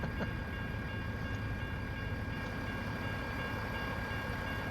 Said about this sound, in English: Back-to-back trains.